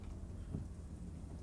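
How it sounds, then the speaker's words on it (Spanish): Rain falls steadily on a car during a storm chase, heard as a low, continuous drumming rumble with one faint thump partway through and no voices. "Vale, empieza a llover, moviendo los parabrisas."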